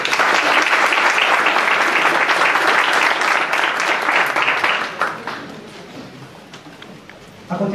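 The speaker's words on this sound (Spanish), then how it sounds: "Recibimos a nuestros panelistas con un fuerte aplauso" Strong audience applause welcomes panelists at a university colloquium on the Avianca collective labor conflict, dense and steady for about five seconds before tapering off as a voice begins speaking.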